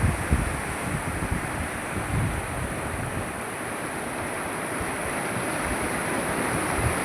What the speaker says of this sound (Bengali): নদীর স্রোত বেশ ভালোই আছে